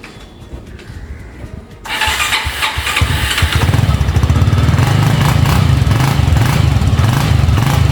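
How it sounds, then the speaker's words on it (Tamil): A motorbike engine, freshly serviced with an oil change, cranks and catches, then settles into a steady, loud, even idle that runs close by without any talk. "ஐட்லிங் எப்படி இருக்குன்றது, ஆயில் சேஞ்ச் பண்ணியாச்சு, டிஃப்ரென்ஸ் எப்படி இருக்குன்னு பார்க்கலாம், இன்ஜினோடைய சவுண்ட் எப்படி இருக்குன்னு பார்க்கலாம்."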